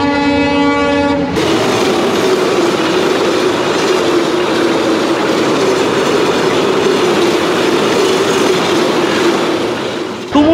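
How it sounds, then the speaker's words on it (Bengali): The Silk City Express from Rajshahi rushes past at high speed, heard from aboard another train: a brief horn blast at the start, then a loud, continuous roar of wheels and rattling carriages. "তুমুল গতিতে কিন্তু আমাদের ট্রেনটিকে পাস করে গেল। এটা হচ্ছে রাজশাহী থেকে ছেড়ে আসা সিল্ক সিটি এক্সপ্রেস ট্রেনটি।"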